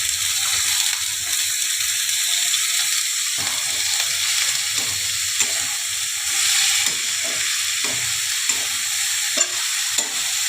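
Sliced ivy gourd (kundri) frying in hot oil in a pan for an aloo kundri curry, a continuous close sizzle and hiss broken by the scrape and clatter of stirring, with no talking.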